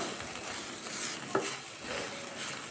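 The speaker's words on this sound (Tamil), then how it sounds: "எல்லா பக்கமும் கலந்து கிண்டி விடுங்க" Cooked rice flour mixture being stirred in a pan, a soft continuous hiss of frying with a single spoon scrape midway, fairly quiet and close, no voices.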